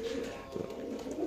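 A male pigeon at a pigeon farm coos softly, a brief, low, throaty call rising and falling once, heard close but quiet.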